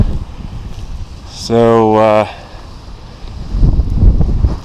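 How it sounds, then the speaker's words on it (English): Strong wind buffets the microphone high on a Mexican volcano slope above 13,000 feet. It is a rough, gusty rumble throughout, broken briefly by a short voiced sound. "hopefully the wind will die down and we'll be able to continue fairly soon"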